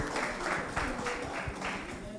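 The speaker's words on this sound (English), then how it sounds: "a round of applause for all the groups." A room applauds for all the groups at a teaching workshop, clapping in regular pulsing bursts under a faint voice, fairly quiet and moderately close.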